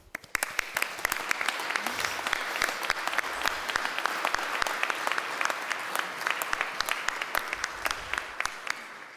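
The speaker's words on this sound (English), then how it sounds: "Please give a round of applause for John Gilmore." A crowd at a surveillance policy forum gives sustained, even applause with sharp individual claps standing out close by, continuing without a break.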